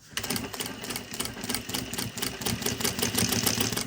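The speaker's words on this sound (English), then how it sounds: "So I'll just go backwards and sew it up here." A sewing machine runs steadily in reverse, stitching back along a seam on a handmade purse, with a rapid, even mechanical clatter heard close up and alone for a few seconds.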